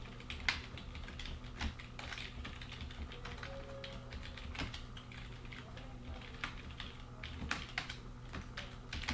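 Typing on a computer keyboard while writing C++ code: irregular, close clicks and taps run through the whole stretch, some keystrokes louder and sharper than others, over a low steady hum.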